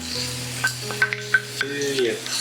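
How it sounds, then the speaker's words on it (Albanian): Minced meat frying in a pan with onion and carrot for lasagne, a soft steady sizzle under occasional scraping and stirring clinks of a utensil against the pan, close by. "I skuqim bashkë qepën me karrotën."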